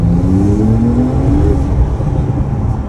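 A Porsche 992 Turbo S with decat and OPF delete accelerates hard, its engine note climbing steadily in pitch, loud and close throughout.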